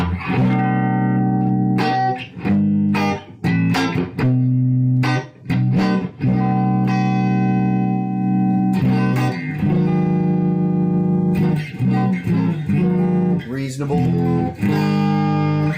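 Electric guitar played through a modified CAM1959 plexi-style amp on its low gain input gives clean, sparkly, spanky tones, with strummed chords and single-note phrases ringing loud and close with some gaps between.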